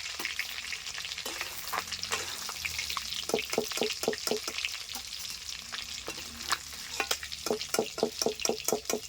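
Egg fritters sizzle and crackle in a hot pan, with bursts of spattering and scraping from stirring, no talking.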